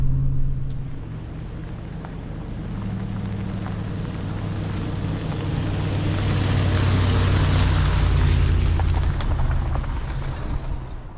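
A new camper rig climbs a mountain road in low gear, a steady low engine drone with rushing wind noise that swells slightly midway, with no talking.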